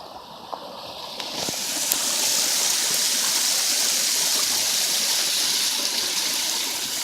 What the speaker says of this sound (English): And then there's your waterfall over there.